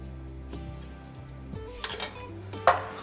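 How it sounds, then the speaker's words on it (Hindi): A metal spoon stirs and scrapes spices frying in a pan on a low flame for aloo matar, with a few clinks and scrapes against the pan and a faint sizzle underneath. "और सब मसालों को अच्छे से भून लेंगे हम।"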